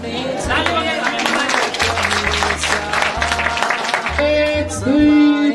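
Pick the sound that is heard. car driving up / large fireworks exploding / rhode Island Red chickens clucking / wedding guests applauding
wedding guests applauding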